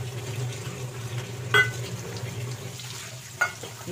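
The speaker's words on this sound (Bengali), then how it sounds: "এই মশলাকে একটু ভেজে নিব।" Bay leaves, a dried chili, whole garam masala and cumin fry in hot mustard oil in a pan. A steady, close sizzle runs throughout, with two sharp clinks of a utensil against the pan and no voices.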